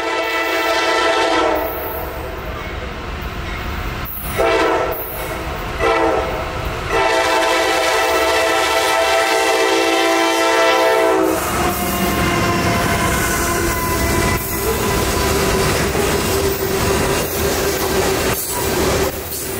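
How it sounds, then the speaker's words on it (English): A southbound Norfolk Southern freight train rumbles past close by, sounding its horn in long blasts, with wheels squealing and steady rolling noise throughout. "The wait was only about 15 minutes before our southbound train rolled up on"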